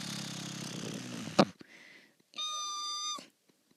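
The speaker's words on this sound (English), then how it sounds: "A kettle boiling." A boiling kettle lets out a short, high whistle that holds for under a second after a brief clatter and a pause.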